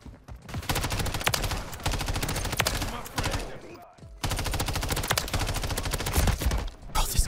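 Rapid automatic gunfire in a first-person shooter video game comes in two sustained loud bursts separated by a brief pause, with dense repeated shots and a faint voice underneath.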